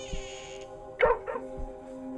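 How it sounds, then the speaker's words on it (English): A dog barks in the horror video game Moth Lake, giving a few short, close barks and yips over low, sustained music. "Stop barking."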